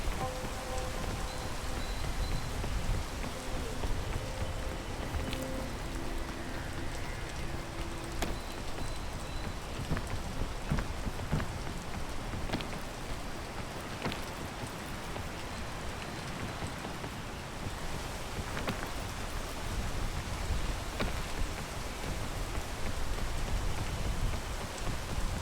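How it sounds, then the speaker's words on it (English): Steady rain falls throughout, a dense hiss of drops spattering on surfaces with scattered sharper close impacts, fairly loud and unbroken for the whole stretch with no voices. "rain could clear up for a second, that'd be sweet"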